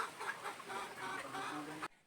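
A baby stag cockerel clucking in a coop at a range area, a steady close run of rough clucks and chatter, fairly quiet, cutting off abruptly near the end.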